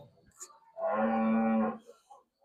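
A single cow moos loudly and close by at a livestock market in Kyzylorda, one sustained low call of about a second, with quieter market noise before and after.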